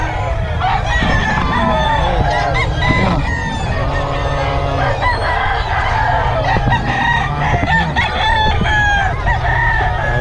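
Several roosters crow loudly over a constant clucking of many chickens at a gathering in Bocaue, Philippines, with a crowd murmuring in the background.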